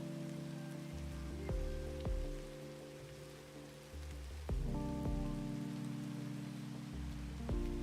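In the video game Girls' Frontline: Neural Cloud, a steady hiss of rainfall runs beneath held musical chords and a few bright plucked accents, uninterrupted and without any voices.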